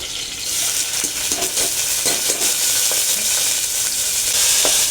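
Cumin seeds and bay leaf tempering in hot oil for a Bengali mutton leg soup, giving a steady, close, bright sizzle that holds through the whole stretch, with faint stirring clicks and no talk.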